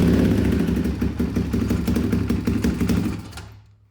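A 2004 Polaris Predator 500 ATV engine fires up and runs with a loud, steady, clattering rumble up close, then cuts off abruptly near the end.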